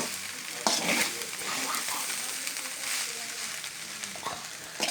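A pan of tomato bath gravy is stirred and pressed down with a spoon, giving a steady moist sizzle with soft scraping and squelching strokes throughout, close and fairly loud, with no talking.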